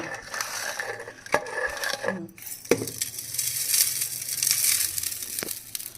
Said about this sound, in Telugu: మిక్సీలో చింతపండు మిక్సీలో వేసి దానిపైన సాల్ట్ పోసి మిక్సీ పెట్టాలి మెత్తగా అయిపోతుంది